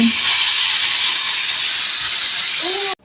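A pressure cooker of mung beans vents steam in a steady, loud, close hiss that runs unbroken for about three seconds and then cuts off abruptly.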